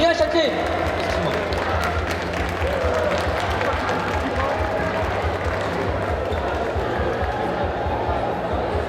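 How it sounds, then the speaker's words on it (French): A crowd applauds and cheers for speakers at a French convention talk at a Necronomi'con event. The clapping sounds dense and steady, with a loud roomy hum throughout and voices mixed in. "je vous demande un tonnerre d'applaudissements pour Patch et Pierre Châtelet, Julien Châtelet."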